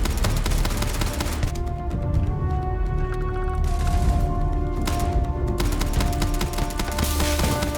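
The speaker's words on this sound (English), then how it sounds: "What are they shooting me with?" Rapid gunfire aimed at the player in the space game Starfield, dense bursts of automatic shots rattling continuously with brief lulls, loud and close amid a busy combat mix.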